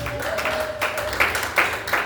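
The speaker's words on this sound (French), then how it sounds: "Les acclamations sont faites." A church congregation applauds and cheers during a Sunday service in Lubumbashi, with bursts of clapping rising and falling amid voices.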